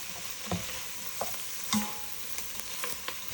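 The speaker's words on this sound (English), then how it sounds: "Stir that around, just incorporate that." Garlic stirred into a sizzling chili mixture in a pot: soft spoon scrapes and taps at irregular intervals over a steady, quiet frying sizzle, no voices.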